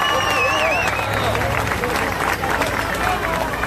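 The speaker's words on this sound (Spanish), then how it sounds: "fuerte el aplauso" A crowd at an outdoor political campaign rally applauds and cheers amid loud hubbub, with whistles and voices mixed into continuous clapping.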